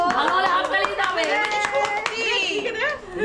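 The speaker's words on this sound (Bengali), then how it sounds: "ভালো হলে হাততালি দিতে হবে।" Several people clap hands briefly, close by, mixed with lively overlapping voices, including a child's, during a gathering where wedding gift trays are being decorated.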